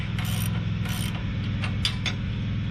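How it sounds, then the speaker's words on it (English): A wrench snugs a 3/4 inch nylon lock nut on a custom hitch receiver, giving a close, quiet ratcheting click repeated in a few short bursts over a steady low hum. "Now, because it's a nylon nut, you absolutely need a wrench on the back side."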